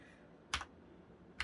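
Two quick, crisp keypresses on fully lubed 45g Coral V2 mechanical switches in a tenkeyless keyboard, about a second apart, click sharply over a quiet background hum.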